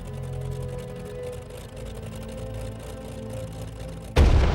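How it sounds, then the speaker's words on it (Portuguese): Cannon fire from the first shot of World War II, aimed at Danzig on 1 September 1939 at dawn: a steady low rumble, then a sudden loud, close blast right at the end. "O primeiro tiro de canhão da Segunda Guerra Mundial é disparado contra Danzig."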